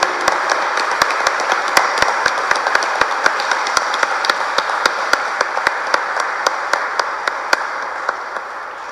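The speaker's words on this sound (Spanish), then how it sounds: "Un aplausito que suene." Steady applause from a church congregation during a Mass for the Virgin of the Pillar feast, a dense wash of many hands clapping evenly for about nine seconds, with sharp individual claps standing out above the crowd.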